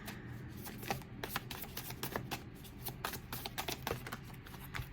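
Tarot cards being shuffled and drawn, a steady run of crisp riffling and slapping card sounds close by, with no voice.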